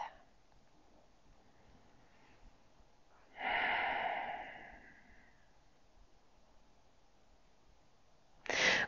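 A person lying down in a relaxed yoga pose takes a single slow, audible breath, a soft airy swell lasting about two seconds, then quiet, ending with a sharper breathy burst; faint and close.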